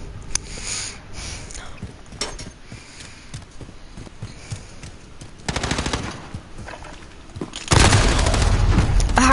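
Video game gunfire crackles in bursts, with scattered single shots giving way to a rapid automatic volley and then a loud, sustained stream of fire at the end.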